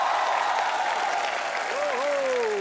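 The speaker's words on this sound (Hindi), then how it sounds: "जोरदार तालियां एक बार वैभवी मर्चेंट के लिए" Sustained applause from a TV comedy-show studio audience welcoming a celebrity choreographer, dense and steady throughout, with a musical tone or voice gliding over the clapping near the end.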